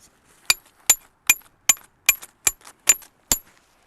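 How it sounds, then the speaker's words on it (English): Tent stakes for a Nunatak Apex hot tent being hammered into the ground, eight sharp, evenly spaced metallic strikes about half a second apart, close and clear with no talk. "Hammer the stakes in."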